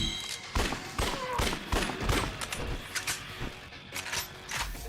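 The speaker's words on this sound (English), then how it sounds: "Shotgun, but it's fine." Shotgun fire in the zombie action game Yakuza: Dead Souls, a rapid series of sharp blasts at an irregular rhythm, some clustered closely, fairly quiet overall with game ambience between shots.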